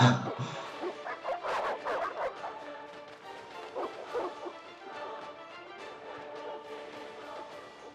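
Dogs barking and yipping in The Witcher video game, several sharp barks in quick bursts early on, then scattered yelps over a steady background of game ambience and music.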